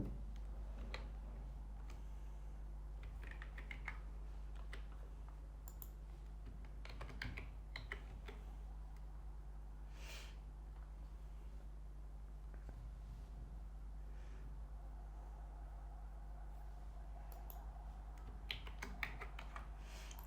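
Quiet, uneven computer keyboard typing as names are entered in PowerPoint, soft clicks in short bursts over a steady low hum, with no talking.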